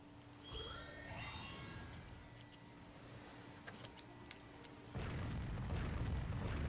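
A distant boom and rumbling burst mark an enemy battleship exploding as it sinks in the naval combat video game Warship Gunner 2, followed by a louder, sustained rush of explosion noise, with no speech.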